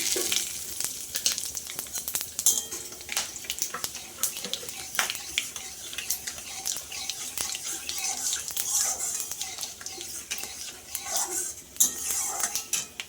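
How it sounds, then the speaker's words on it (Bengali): Whole spices including bay leaf, garam masala and cumin crackle in hot oil in a kadai, with scattered clinks of metal utensils against the pan and a steady faint sizzle throughout. "এখানে তেজপাতা গোটা গরম মশলা আর জিরে সাদা জিরে আমি ফোড়নে দিয়ে দিচ্ছি"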